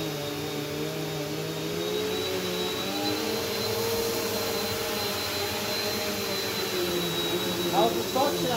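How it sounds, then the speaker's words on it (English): A Bissell bagged vacuum cleaner runs steadily throughout, a loud continuous whine with a high tonal edge, with brief voices speaking near the end. "How's the suction on that vacuum?"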